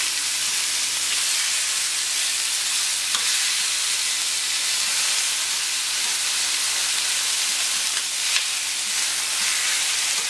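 Marinated rabbit sizzles on a hot plancha, giving a loud, steady, close-up hiss of frying that runs unbroken for about ten seconds, with faint scrapes of stirring now and then.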